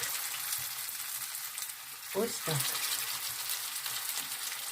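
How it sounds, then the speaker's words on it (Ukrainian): Minced meat frying in a heated pan on a gas stove, a steady sizzle throughout with a brief stirring or turning scrape midway and a short spoken remark over it. "Ось так розігрілася сковорідка. Ми прикручуємо тепер газ. Все. І перевертаємо фаршу донизу."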